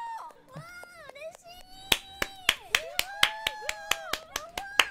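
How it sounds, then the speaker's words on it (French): Sharp hand claps ring out close and crisp in a steady rhythm, about a dozen in quick succession, over a tonal background with voice-like sounds. "On applaudit Square Enix."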